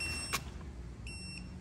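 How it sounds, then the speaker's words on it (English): The fall alarm on a Wheelator hybrid rollator walker wheelchair gives two short, faint electronic beeps with a pause between them, heard over low background hum. "Hear that beeping?"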